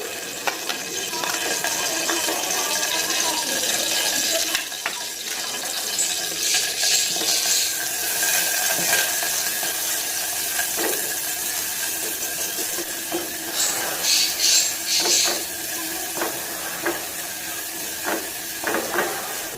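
About two tablespoons of chopped garlic hiss and sizzle steadily in a hot pan, with soft crackles and the occasional clink of a utensil throughout.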